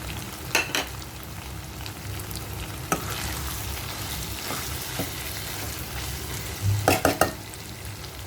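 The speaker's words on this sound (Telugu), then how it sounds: "చికెన్ వేగితే బాగుంటుంది. కాసేపు వేపుకోవాలి." Chicken frying with curry leaves over a low flame, a steady close sizzle with stirring scrapes and a few sharper crackling pops, no voices.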